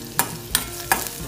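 Cumin, poppy seeds and dried coconut dry-roasting in a pan for a Maharashtrian masoor masala, stirred in three brief scraping strokes over a faint low crackle, with no voices.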